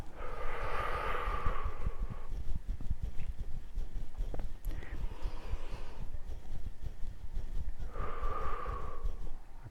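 A person breathes out deeply from the diaphragm during a relaxation exercise. Two soft, airy exhales are heard close up, one at the start and one near the end, over a low steady background rumble.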